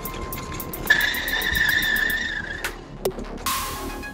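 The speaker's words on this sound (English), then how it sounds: "it does pretty good tire squeals" Tire squeal from a Berg X-ite XL-BFR pedal go kart, a thin high screech that holds for over a second alongside a few short squeaks, moderately loud and nearby over steady outdoor background noise.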